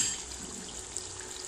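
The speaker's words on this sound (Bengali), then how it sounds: "এগুলো এখন ভাজতে দিয়েছি, কাকরোল আলু হয় নাই এখনও" Teasel gourd and potato pieces fry in oil in a covered pan, making a steady, even sizzle and hiss, slightly muffled and moderately quiet, without pause.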